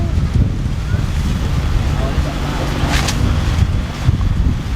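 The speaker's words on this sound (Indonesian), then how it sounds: "anginnya seger banget nih" Fresh wind blows across a campervan park in Subang, West Java, a loud, continuous rumbling gust buffeting the microphone throughout with slight swells.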